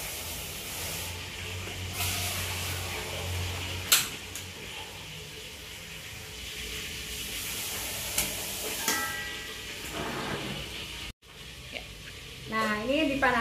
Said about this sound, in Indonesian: kita akan panaskan di dalam wajan yang fungsinya adalah supaya kita bisa membuat si moza ini mulur